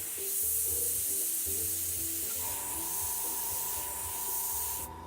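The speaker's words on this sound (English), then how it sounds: "I'm going to spray a little lighter and a little thinner as we get down towards the stomach" Steady close hiss of an airbrush spraying paint onto a model horse, continuous for several seconds with a faint low hum underneath, cutting off at the very end.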